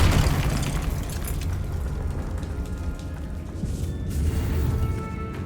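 A Confringo spell explosion in the Hogwarts Legacy video game bursts loud and close, a heavy rumbling boom that sustains with crackling debris and swells again near the end.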